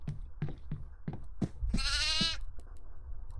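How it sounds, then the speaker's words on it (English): Goat bleating in the horror video game Devour: a quavering, drawn-out bleat at mid-clip among several short knocks and thuds. "But I've picked up my first goat."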